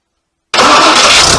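A Packard 327 straight-eight engine fitted with a new 4-barrel carburetor bursts into a loud, steady roar after half a second of silence, sustained and close without any voices.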